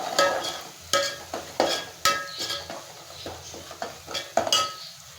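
Curry leaves frying in a pan for a fish curry, a steady sizzle broken by repeated close scraping and clinking of a utensil stirring against the pan.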